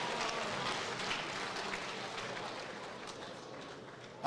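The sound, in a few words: audience applause after boxing bout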